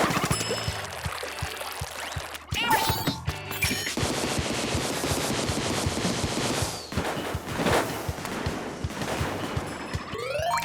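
Rapid, continuous bursts of the Mini Splatling ink weapon firing in the Splatoon 2 video game, with a dense rattling stream of shots broken by brief gaps. Loud and up front.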